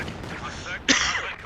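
A quick artillery barrage in Company of Heroes 2, a World War II strategy game, with a sudden bright burst of blasts over steady game noise and a commentator talking throughout.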